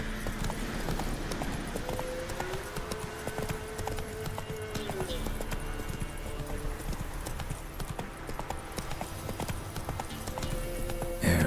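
The horse Roach trots in The Witcher 3 video game, with steady rhythmic hoofbeats clip-clopping throughout over a dense game soundscape.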